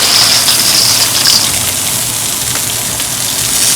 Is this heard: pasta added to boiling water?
yes